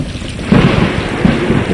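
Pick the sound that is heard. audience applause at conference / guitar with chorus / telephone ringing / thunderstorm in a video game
thunderstorm in a video game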